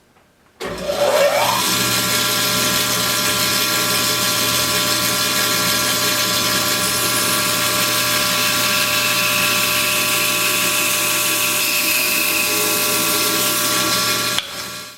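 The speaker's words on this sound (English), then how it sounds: "I'll take you over here to the bandsaw and we'll cut off that one section in the back" A bandsaw spins up with a brief rising whine, then runs at a steady, loud, continuous drone with a high buzzing edge for over ten seconds while cutting wood, before cutting off.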